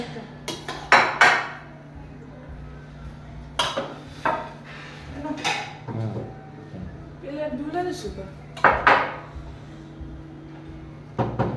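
Plates and cutlery clatter at a home lunch for three, sharp intermittent clinks and scrapes of metal on dishes in a quiet room, with a few quiet voices in between.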